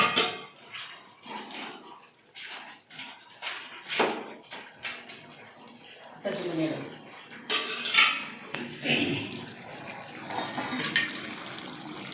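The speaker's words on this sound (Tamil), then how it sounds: "இந்த பொடி இதை எடுத்து இதில் போட்டு கிண்டி விட்டுருவோம்" Crab masala is stirred with spice powder in a metal pan, producing irregular clanks, scrapes and knocks of a spoon against the vessel, close and uneven, with some voices in the background.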